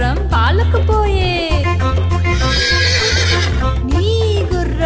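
A horse whinnies loudly several times over the steady clip-clop of hooves, set as a sound effect over music in a Telugu children's rhyme.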